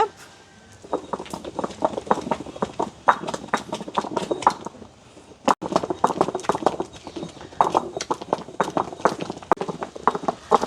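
A traditional stone grinder works idli batter in a village kitchen, making a steady run of close, rhythmic thuds and scrapes that pause briefly midway, then resume.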